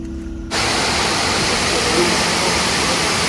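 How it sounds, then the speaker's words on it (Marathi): Nanemachi Waterfall in Raigad district roars in a dense, constant rush of water that bursts in loudly after a brief quieter moment. "आतापर्यंत सगळ्यात भारी धबधबा माझ्या लाईफ मधला"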